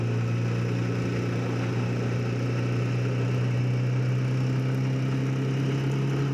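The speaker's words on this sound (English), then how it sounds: "I love the sound of this engine." A car engine idles with a steady, deep growl that stays loud and constant throughout, with no talk over it.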